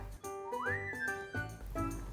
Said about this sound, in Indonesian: di sini teman-teman dengar nggak ada suara peluit? Dengar kan? Itu tandanya tempat ini akan segera tutup